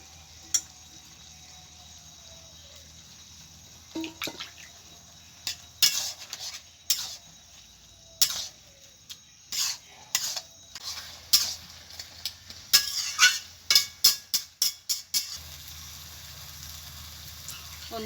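A spoon stirs ground coconut paste into an ash gourd curry in a pan, giving a run of sharp, closely spaced scrapes and clinks that start sparse and grow quicker and louder before fading, with no talk.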